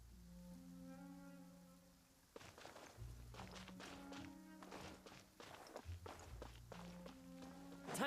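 Footsteps of a character walking through a rainstorm in Genshin Impact, steady thudding steps under a soft wash of rain and a sustained musical tone, with a short pause before the walking resumes.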